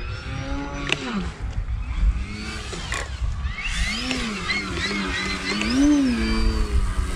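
An electric-powered RC 3D prop plane running on a 14.9-volt battery in wind: the motor's whine swoops up and down in repeated throttle surges and cuts, fairly close and loud, over a steady rush of wind noise.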